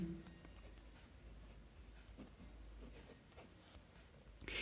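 Marker or chalk writing a note on a board during a quadratic equations math lecture, faint scratchy strokes over steady low room hum, with no talking.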